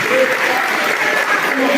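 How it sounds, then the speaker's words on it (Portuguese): Steady applause from a church congregation, loud and sustained throughout with no pauses. "Toda aplauso seja para Ele."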